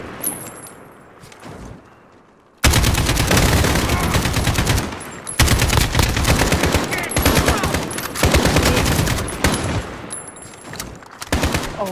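Rapid automatic gunfire in the online mode of Call of Duty Modern Warfare: a quiet opening, then loud sustained bursts with brief gaps, close and dominant.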